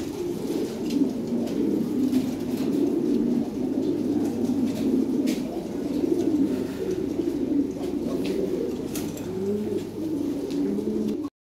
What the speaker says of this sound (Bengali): এখানে এক পেয়ার লাল লাহোরি আছে ভাই।